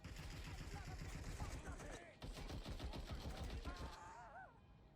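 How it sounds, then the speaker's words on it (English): Rapid gunfire from a Watch Dogs: Legion benchmark scene, fast bursts of shots rattling behind game music and someone talking over it, the shooting steady and mid-distance. "why are they shooting each other"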